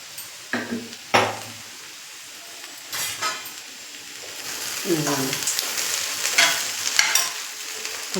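Vegetable pieces being stirred and mashed in a pan on the stove, with a few sharp utensil scrapes and knocks over a steady sizzle that builds toward the end, and brief background voices.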